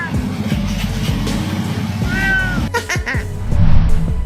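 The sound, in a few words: cat meowing in protest when woken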